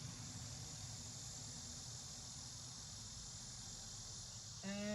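Cicadas and birds outdoors: a steady, dense high insect drone with bird chirps fills the background throughout, and a brief louder tonal call appears near the end.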